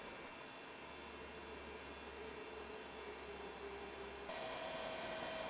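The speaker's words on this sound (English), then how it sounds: "Here's a close-up view of a typical PC power supply exhaust fan." A typical PC power supply exhaust fan runs with a steady, even whir and low hum, close up and unbroken, shifting slightly in tone near the end.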